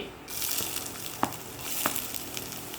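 Onion, ginger, green chili and curry leaves sauté in a hot pan for masala dosa filling, a steady close sizzle with a couple of sharp stirring clicks from the spatula.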